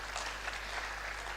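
Applause from the audience at a University of Lagos convocation lecture, a soft, even patter of many hands held steady at low level from a distance, with no voices over it.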